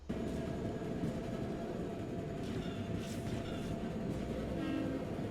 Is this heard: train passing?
yes